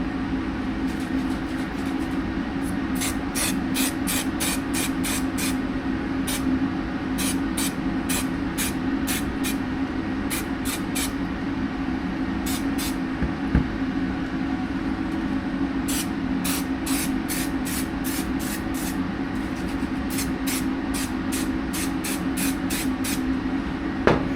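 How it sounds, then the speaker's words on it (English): Bursts of multi-purpose contact adhesive sprayed from a can, a series of short hissing puffs in two clusters over a steady background hum, fairly close. "Not a real problem if you overspray. Just rub it off with your finger."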